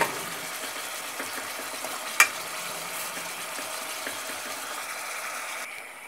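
A steady, close sizzle of chicken livers frying in a hot pan, with an occasional louder crackle and faint scraping as they cook.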